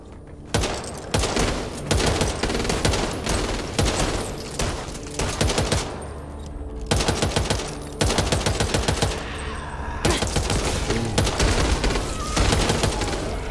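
Rapid bursts of gunfire in the zombie shooter Back 4 Blood, repeated volleys of automatic fire one after another across the whole stretch, loud and close with no talk.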